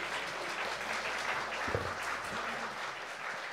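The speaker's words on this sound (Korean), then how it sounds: "큰 박수로 격려해 주시기 바랍니다" Church congregation applauding at a Korean worship service, a steady wash of many hands clapping at moderate distance, with a brief thump midway and no speech over it.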